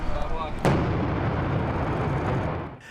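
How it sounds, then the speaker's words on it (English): A bomb squad detonates a suspicious backpack near a marathon finish line: one sharp, powerful blast followed by a rolling rumble that fades out over a couple of seconds. "Members of the bomb squad detonated the backpack and another one near the finish line."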